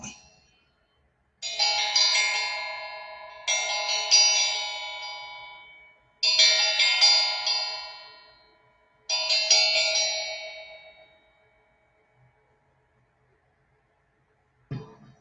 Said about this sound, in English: you hear the noise of